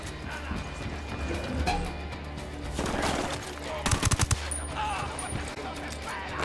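Gunfire in the Ghost Recon Wildlands video game, with a short burst of rapid, loud shots in the middle over a steady background of game ambience and voices.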